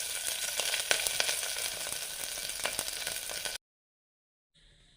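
Green chillies frying in coconut oil inside a pressure cooker give a loud, steady crackling sizzle for about three and a half seconds, then cut off abruptly before a faint hiss returns.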